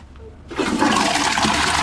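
A toilet supplied with harvested rainwater flushes after a quiet start, rising into a loud, close, continuous rushing gush that holds to the end.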